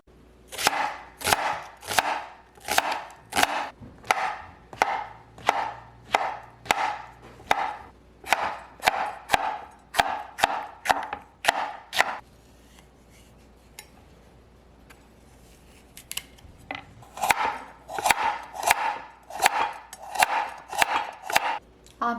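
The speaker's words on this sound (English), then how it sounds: "I will slice the vegetables for mixing with the bulgogi." Vegetables for bulgogi sliced with a knife on a cutting board, a brisk run of sharp, evenly spaced chops, then a short pause before another quick burst.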